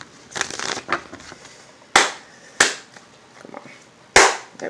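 Tarot cards are shuffled in a few quick riffling bursts, each a sharp crisp flutter of card stock, separated by short pauses and softer handling sounds.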